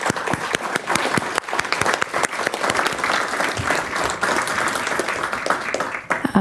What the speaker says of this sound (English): a round of applause to all of our panelists